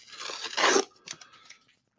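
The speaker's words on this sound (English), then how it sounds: "so I'm going to have to take off the sticker" A sticker being peeled off a trading card pack, a rasping tear followed by a few shorter crinkly pulls, close and alone.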